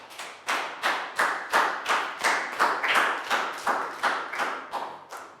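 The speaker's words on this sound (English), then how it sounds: "Big round of applause for Pangpon." Rhythmic group clapping in a primary school math class, about a dozen evenly spaced, fairly soft claps in a regular beat to praise a pupil.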